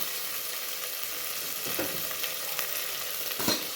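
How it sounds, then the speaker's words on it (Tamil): Coriander leaves and green chillies sautéing in a pan while making pongal, giving a steady close sizzle with soft stirring scrapes and occasional spatula clicks, no voices. "கொஞ்சம் இது வதங்கட்டும்."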